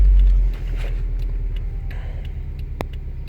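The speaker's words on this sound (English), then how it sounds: "and restart the car" A Subaru car engine is restarted, with a loud low burst at ignition that settles into a steady idling rumble with faint ticks, close and alone.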